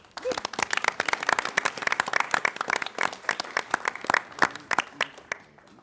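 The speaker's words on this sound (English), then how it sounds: "One more round of applause." A crowd at a school board meeting applauds with dense, continuous clapping that is fairly close and sustained, gradually thinning toward the end.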